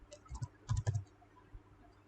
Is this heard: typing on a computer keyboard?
yes